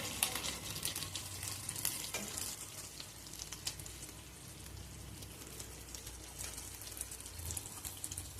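Fish fries in hot oil in a restaurant kitchen, a steady crackling sizzle with scattered sharp pops throughout, heard close up with no one talking.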